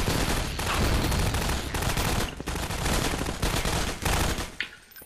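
Rapid bursts of video-game gunfire from Half-Life 2 Episode One, dense overlapping shots sounding continuously and fairly loud for several seconds before tapering off.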